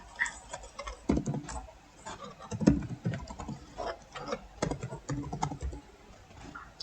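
Quick, irregular taps on a computer keyboard while typing text into a presentation slide, soft and close with uneven bursts of keystrokes.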